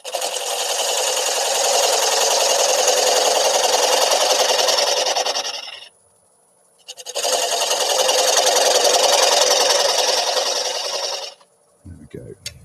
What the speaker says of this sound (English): Turn the lathe on.